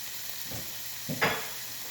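Unseasoned meat, being salted and peppered for a chicken Philly, frying in a pan with a low, steady sizzle, punctuated by a couple of brief louder hisses and stirring scrapes near the end.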